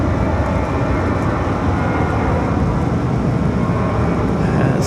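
A Southwest airliner moving on the ground at Raleigh-Durham International Airport gives a steady, loud, broadband jet rumble that holds even for the whole stretch, with no voices.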